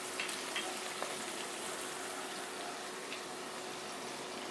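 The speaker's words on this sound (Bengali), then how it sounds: "তেলে জিরা দিলাম, পেঁয়াজ এইটুকু দিয়ে অবশ্যই হবে না" Cumin seeds and onion frying in oil for homemade haleem, giving a faint, even sizzle throughout with a few soft clicks of stirring near the start, steady and close with a low hum beneath, with no talking.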